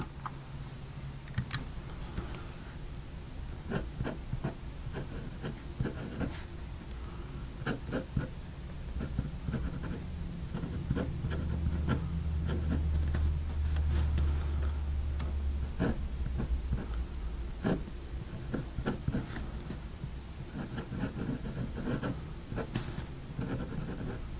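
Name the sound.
writing with a Fountain Pen Revolution fountain pen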